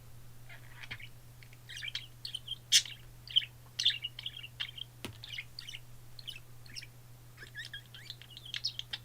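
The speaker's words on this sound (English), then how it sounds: "I hope my birds aren't being that loud, because like they can get really loud" Pet birds chirp and tweet indoors in quick, scattered bursts, moderately close, over a steady low electrical hum.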